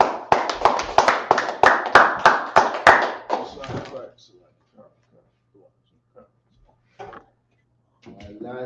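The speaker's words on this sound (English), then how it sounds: "Clap it up." A church congregation claps together during a Sabbath service, about a dozen loud, sharp claps in steady rhythm over roughly four seconds, then a few scattered taps and rustles before voices speak briefly near the end.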